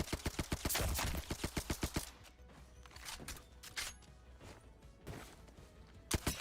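Rapid gunfire in a shooting video game: a fast burst of sharp, evenly spaced shots for about two seconds, then scattered single shots and quieter clatter, with another short burst at the end.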